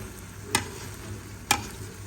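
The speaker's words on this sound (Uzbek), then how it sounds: "Endi ustidan aralashtiraman." Uzbek plov rice is stirred in a hot pot, two sharp scraping strokes of the utensil standing out against a faint, steady sizzle of oil underneath.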